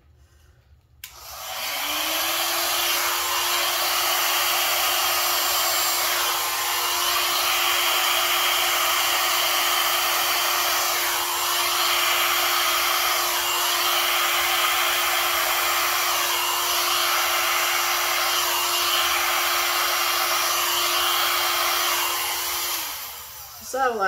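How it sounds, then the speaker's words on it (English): A low-power, high-heat hair dryer starts up and runs as a steady, loud whirring hiss for about twenty seconds, with slight rises and dips as the airflow moves, then cuts off. "I don't really trust my blow dryer to do its job and catch it all at one time"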